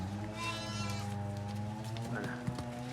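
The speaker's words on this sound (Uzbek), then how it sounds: "Sog'lom qo'ylar hammasi." Sheep bleat at a livestock market where healthy sheep are for sale, a steady chorus of near bleats running throughout, with a sharp knock near the end.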